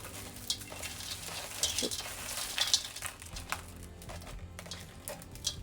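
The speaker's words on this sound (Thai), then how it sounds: "ใช้ไฟอ่อนสุดนะจ๊ะ แล้วเราก็เทพริกลงไปเลยค่ะ ใส่ลงไปให้หมดเลย" Dried chilies tipped into a pan over the lowest heat and dry-roasted, giving soft, scattered crackles and light scraping, faint and close, with no voices.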